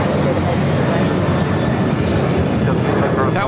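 An Alaska Airlines Boeing 737-800 takes off at LAX, bound for Washington National, its broad, steady engine roar filling the scene at constant loudness throughout.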